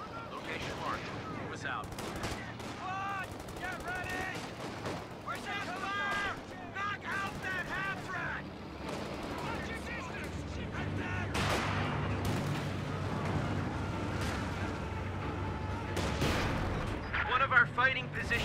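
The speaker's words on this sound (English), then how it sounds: "We're taking fire!" Dense gunfire and artillery from the video game Company of Heroes 2 with US infantry: rapid machine-gun bursts, rifle shots and heavy booming blasts rattle almost continuously, while soldiers' voices shout over the battle.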